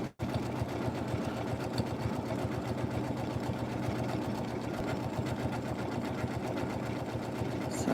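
Janome M17 sewing machine stitching a flower petal, a continuous close, loud motor hum with rapid stitching rhythm running unbroken after a brief start.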